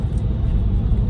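Car interior rumble while driving on the road, a steady low-pitched road and engine drone filling the cabin, loud and continuous with no voices.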